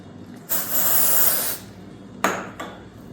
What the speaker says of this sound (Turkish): Emway deodorant. Onu da hemen şuradaki yazıya sıkıyorum.